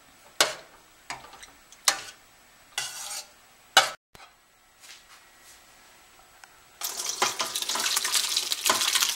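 A few sharp clinks and knocks of stirring, then water pouring steadily through a strainer, close and continuous.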